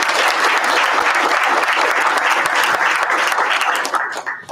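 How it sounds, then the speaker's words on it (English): Audience at a school board of education meeting applauding team captains: loud, dense clapping from many people that stays steady, then tapers off abruptly near the end. "I also want to give a big round of applause and recognition to my captains"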